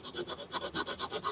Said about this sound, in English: Basically filed it down